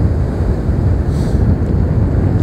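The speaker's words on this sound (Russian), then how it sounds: "Посмотрите, какие волны, а." Stormy sea waves at Anapa in hurricane-force wind, a loud, continuous roar with heavy wind buffeting the microphone and no voices.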